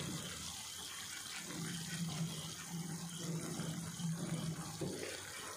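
Water is poured into a cooking pan for chicken sukka, a steady splashing stream that runs continuously and close by for several seconds, with no talking over it.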